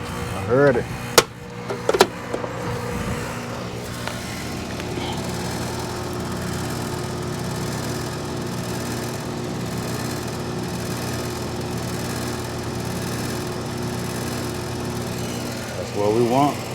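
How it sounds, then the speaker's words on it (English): A Carrier air conditioner compressor humming steadily with a low droning tone after a couple of sharp knocks at the start, while people talk over it. "we should get that old good compressor sound"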